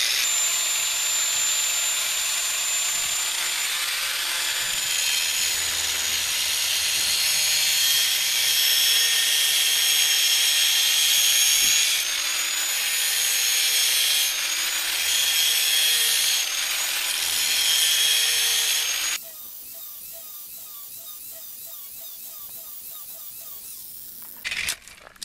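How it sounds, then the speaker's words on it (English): Angle grinder sharpening brush hog mower blades still mounted on the mower, a loud, sustained metallic whine that shifts in pitch as it bites, then stops abruptly, leaving quiet clinks. "Put your grinder on lock first. Get some eye protection, hand protection on there, and then just go at those last few inches."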